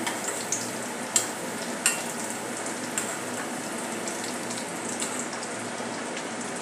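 Mini samosas deep-fry in oil over a low flame, giving a continuous soft, crackling sizzle with a few faint pops and clicks scattered through it and no voices.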